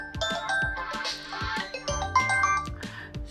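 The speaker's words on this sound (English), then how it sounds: "my phone is ringing" A mobile phone ringing with a bright, chiming melodic ringtone, repeating tinkling notes at steady volume over a tonal musical background, with no talk.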